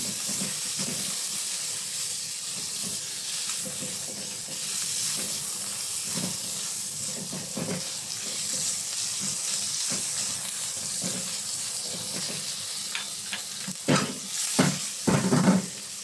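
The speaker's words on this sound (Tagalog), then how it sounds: "Fry natin yung garlic hanggang sa mag-aromatic" Garlic fries in a pan while cooking stir-fry noodles with pork, giving a steady soft sizzle and hiss with occasional stirring scrapes and clacks that grow louder near the end.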